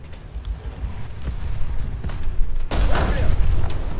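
A Russian infantry fighting vehicle fires its cannon in a tank combat game. A muffled rumble builds, then a heavy boom hits near the end and leaves a loud, rolling tail.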